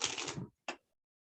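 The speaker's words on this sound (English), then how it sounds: "I'm just gonna shuffle." Deck of playing cards shuffled close up: a dense, crisp riffle burst followed by a single short snap, then near silence.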